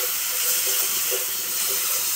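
Ground spices, including coriander, garam masala, chili and turmeric powders, sizzle in a hot pan as a little water is added, producing a loud, steady hiss that continues without a break.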